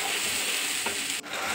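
A spice paste (masala) fries in oil with an even, close hiss and a couple of faint stirring clicks over a short stretch.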